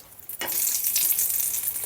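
Pea-filled pirozhki made from choux dough fry in hot oil in a pan, giving off a dense, continuous sizzle that swells suddenly after a quiet start and holds steady and close.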